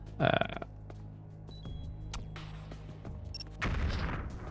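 A C4 charge detonates in Metal Gear Solid: The Twin Snakes: one loud, sharp blast right at the start, then quieter game ambience with a few soft knocks and a renewed rush of noise near the end.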